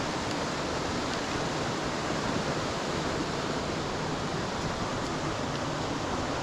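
Whitfield Force waterfall in Askrigg after moderate rain, heard as a steady, dense rush of falling water that holds an even level throughout, with no voices.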